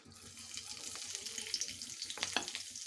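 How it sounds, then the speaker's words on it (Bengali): Green chillies crackle as they go into hot oil in a pan for tempering, a faint, close sizzle with light spattering pops. "তেলটা আমার গরম হয়ে গেছে দিয়ে ফোড়নে দেব কাঁচা লঙ্কা"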